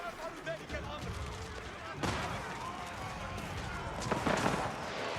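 Repeated booming hand cannon shots and mangonel blasts from a video game battle rumble under continuous excited talk, with a heavier burst about halfway through.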